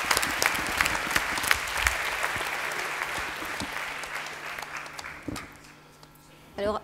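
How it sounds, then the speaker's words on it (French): Audience applause for a graduate at a Bachelor 2012 degree ceremony, a dense sustained clapping that fades gradually toward the end, with voices murmuring underneath. "Je crois qu'on peut doublement l'applaudir par rapport à cela."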